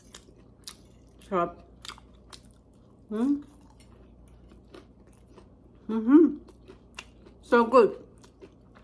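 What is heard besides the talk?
biting and chewing crunchy pork and eggplant omelette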